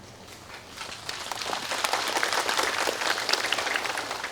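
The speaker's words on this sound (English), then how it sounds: "Why are you clapping?" An audience in a teaching hall claps together, a dense broadband patter that swells after a soft start and holds steady and fairly loud to the end.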